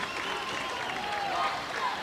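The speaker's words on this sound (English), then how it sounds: "who gets a nice hand from the Grizzly crowd" A high school basketball crowd in a gym giving a player a hand, a steady wash of applause and crowd noise, with commentary heard over it.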